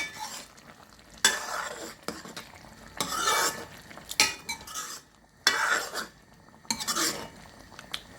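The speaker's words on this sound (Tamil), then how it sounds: "இதை நல்லா சேர்த்து கிளறி விடுவோம்." A spoon stirs bitter gourd curry in a frying pan, scraping and clinking against the metal in repeated bursts over a continuous oily sizzle, close and fairly loud.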